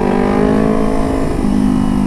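A loud motorcycle with an aftermarket exhaust revs steadily close by, its droning harmonic note dipping slightly partway through before holding again.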